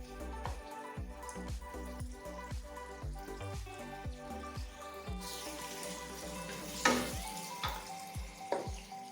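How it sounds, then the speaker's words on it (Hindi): Beef being fried in spices with yogurt added bit by bit while cooking pulao, with close sizzling and frying, stirring clatter and a few sharp scrapes, steady throughout without talk. "थोड़ी थोड़ी दही करके डालते जाएंगे और इसको भूनते जाएंगे।"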